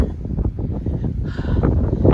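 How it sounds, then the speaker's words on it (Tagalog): Strong wind buffets the microphone in the mountains in winter, a continuous rough roar that grows louder toward the end, with a faint higher whoosh joining midway. "Grabe ang hangin ba?"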